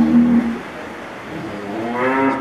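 Cattle inside a barn, with a drawn-out low moo from one animal and another long bellow starting near the end, close and loud with no talking.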